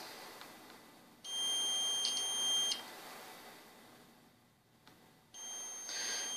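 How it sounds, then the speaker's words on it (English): A multimeter set to continuity mode gives two steady, high-pitched electronic beeps a few seconds apart while probing a diode in a Roomba switching power supply under repair, each tone clear and close. "With my multimeter in continuity or test mode."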